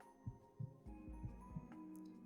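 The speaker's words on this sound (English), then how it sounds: "All he could hear was his own pounding heartbeat." Pounding heartbeat sound effect in a spoken horror story, a run of deep, regular paired thumps over a low hum, evenly spaced and fairly close.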